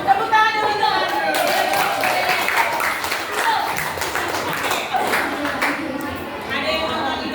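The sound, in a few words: audience applauding for Andre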